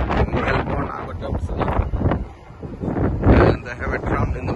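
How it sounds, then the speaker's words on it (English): Gusty wind buffets the microphone in rumbling bursts, rising and falling, with a voice talking underneath at times, on a chilly day in Melbourne. "It's very windy and a little bit chilly."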